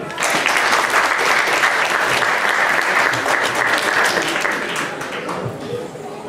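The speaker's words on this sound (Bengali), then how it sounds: "একটি করতালি দিলেন।" An audience at a cultural discussion event in New York breaks into applause, a loud dense clapping that holds steady and then thins and fades toward the end.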